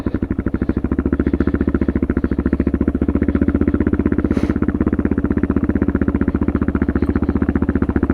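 A Suzuki DR650 motorcycle fitted with a Procycle jet kit chugs along in first gear on a downhill ride, a steady loud thumping single-cylinder beat throughout with no talk.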